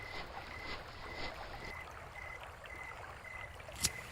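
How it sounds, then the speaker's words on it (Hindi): Quiet outdoor riverside ambience at a cremation ground at night, a soft steady wash of flowing water and faint wind noise, with a brief sharp click near the end. "सिर्फ बहती नदी और हवा की आवाज थी"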